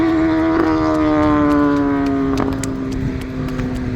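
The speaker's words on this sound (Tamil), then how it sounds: "அந்த வண்டி வருது பாரு." A vehicle goes by on a road during a morning walk, its engine tone steady and fairly loud, slowly sliding lower in pitch as it passes and moves away.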